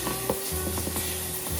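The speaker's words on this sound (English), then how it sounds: "we're going to brown that bacon in our Dutch oven" Small pieces of frozen uncured bacon browning in a Dutch oven, a steady soft sizzle with occasional stirring scrapes and light knocks, close and continuous.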